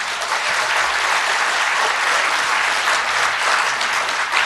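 Sustained, dense applause from an audience at a National Assembly suicide-prevention forum, steady and fairly loud for the whole stretch with no speech over it.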